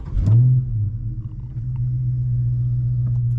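A Dodge Charger Scat Pack Widebody V8 cranks and fires with a loud burst near the start, then settles into a deep, steady idle rumble heard up close.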